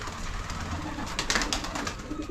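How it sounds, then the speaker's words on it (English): Pigeons coo softly at a dairy farm, their low repeated calls blending into steady outdoor background noise and wind-like rumble. "But anyway, they're the pigeons."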